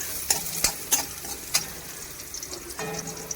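Dried fish with garlic and curry leaves being stirred in a pan: several sharp scraping and clacking strokes of a spatula over a faint sizzle, close up and quiet.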